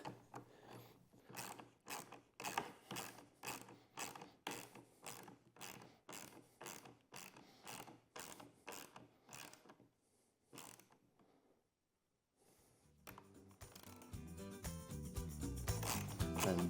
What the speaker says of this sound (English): So I can take my ratchet